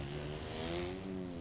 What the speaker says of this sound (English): Apparently they updated 250 engine sounds.